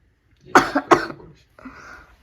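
A woman coughs in two sharp, close bursts, followed by a softer throat-clearing sound, with no talk in between.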